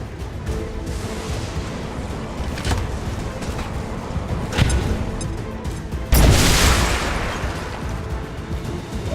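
A frag grenade goes off in the XCOM 2: War of the Chosen combat game, a loud, sharp blast about two-thirds through, set against steady in-game battle noise and smaller pops.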